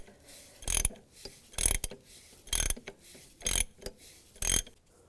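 A tightening tool is cranked in short ratcheting bursts, pressing the crank pulley onto the crankshaft of a 2002-2009 Chevy Trailblazer during a harmonic balancer replacement, five clicking rasps spaced roughly a second apart, close and fairly quiet.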